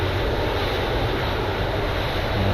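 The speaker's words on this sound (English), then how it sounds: "Engines and everything are running fine." Jet engines of an MD80 airliner in the X-Plane 11 flight simulator drone in a steady, loud, broadband roar that holds unchanged across the whole stretch with no voices.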